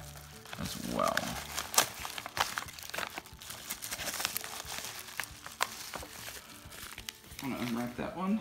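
Paper envelope from a mail delivery being unwrapped, with close crinkling and tearing rustles running throughout, a voice speaking over parts of it.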